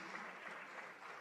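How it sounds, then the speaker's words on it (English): Audience applause for a panelist joining the stage at a corporate panel session, a steady dense wash of clapping at moderate level throughout the short moment, no distinct individual claps standing out. "A round of applause for Mr. Afolabi Sobande as he joins us on stage."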